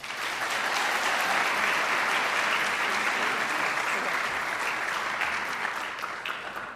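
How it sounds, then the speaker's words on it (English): A crowd at a high school senior recognition night applauds steadily for a graduating senior, dense sustained clapping filling the room at even loudness from start to finish. "Please give Sam a round of applause."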